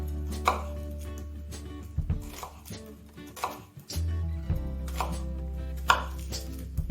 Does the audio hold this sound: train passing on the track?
no